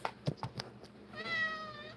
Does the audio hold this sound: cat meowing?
yes